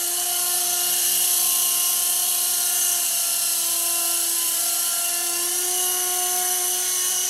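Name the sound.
TX remote-control helicopter hovering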